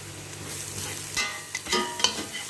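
Chicken with spices and curry powder being stirred in a frying pan, a steady sizzle with a few scraping strokes of the utensil, close up and without talk.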